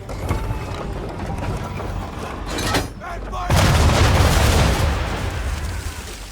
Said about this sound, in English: Now, aim all guns at her bow and do as much damage as possible.